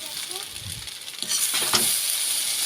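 Egg chow mein sizzling hard in a hot pan while being stirred and tossed, a continuous loud frying hiss with scraping stir noises partway through.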